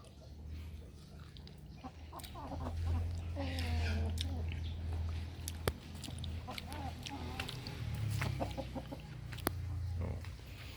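Chickens in a backyard coop cluck and call at midday, with low grunting animal sounds and scattered sharp knocks, the birds moderately near under a continuous outdoor murmur.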